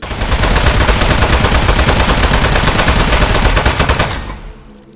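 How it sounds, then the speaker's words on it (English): Sustained rapid automatic gunfire from the video game Aperture Desk Job roars loud and continuous for about four seconds, then cuts off and fades, with no talk. "Shooting him."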